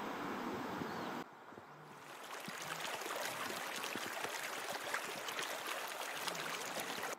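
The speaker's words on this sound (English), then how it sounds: "making use of the gurgling sounds of the river to mask its own approach" River water in India's Corbett National Park gurgles as a soft, steady wash of flowing noise, faint and distant, with no voices.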